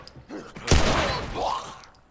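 A sharp, loud gunshot crack in The Last of Us Remastered video game bursts out after a brief murmur, its echo tailing off quickly.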